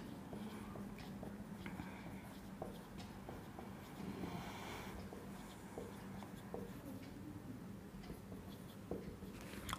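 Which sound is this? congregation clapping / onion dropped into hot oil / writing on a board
writing on a board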